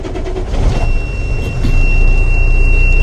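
A semi tractor-trailer truck's diesel engine turns over and settles into a loud, deep, steady rumble up close, with a thin high whine running through it.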